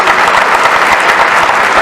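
Loud, dense applause fills a hall at an extraordinary union congress of the CTM, a continuous close roar of many hands clapping together.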